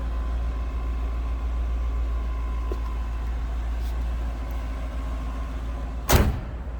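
A 1984 Cadillac Eldorado engine idles steadily with a low exhaust rumble throughout, then a brief sharp clunk or thump near the end.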